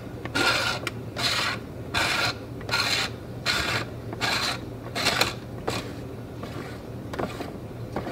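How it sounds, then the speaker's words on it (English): Film being wound onto the reel of a LAB-BOX developing tank by turning the knob, a repeated dry ratcheting rasp in about ten even bursts, close and clear with no talk. "we use our knob to roll the film onto the film wheel and there it's going"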